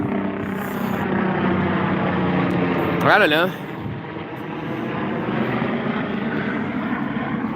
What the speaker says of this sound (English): I'm going to let this helicopter that's interrupting the show being all loud.